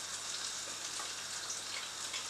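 Garlic fries in a heaped tablespoon of butter in a pan for the white sauce of a pie, giving a steady, fairly quiet hiss and fine crackle throughout with no voices.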